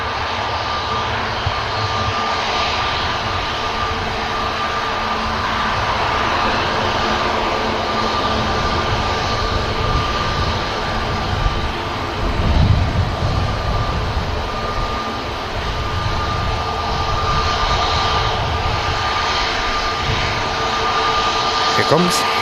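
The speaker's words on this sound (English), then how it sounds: "the Scandinavian is about to continue its taxi onto this active runway now" A Scandinavian airliner taxis onto the active runway at Manchester Airport, its engines giving a steady loud whine and roar that swells slightly midway and holds throughout.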